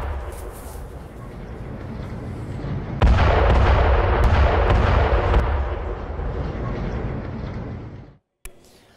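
Israeli airstrike explosions hitting Hezbollah sites in southern Lebanon: a loud, continuous rumbling roar surges sharply partway through, stays heavy with deep booming energy for several seconds, then cuts off abruptly near the end.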